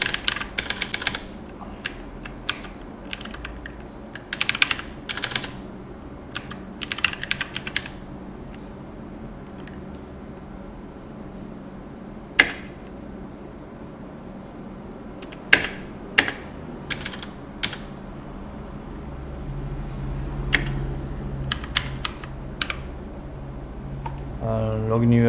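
Bursts of quiet clicking keystrokes on a computer keyboard come in irregular clusters and pauses, close and soft, with light room noise between strokes.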